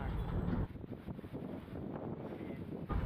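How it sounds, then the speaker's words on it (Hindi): Strong storm wind with dust and blowing plastic along a street of shops roars and buffets the microphone in steady rumbling gusts, loud and close, with no voices. "बहुत ज़ोर से हवा चल रही है गाइस, देख सकते हो"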